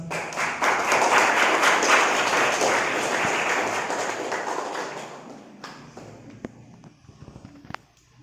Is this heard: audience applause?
yes